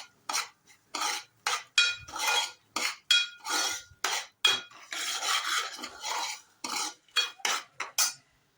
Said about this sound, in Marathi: ही वरई जी मिक्सरला लावलेली हे घालायची आणि ही चांगली भाजून घ्यायची आहे तुपात